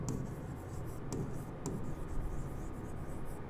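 A statement being written on a board during a maths lecture on Euler's theorem, with faint scratchy strokes in short bursts over a quiet room hum.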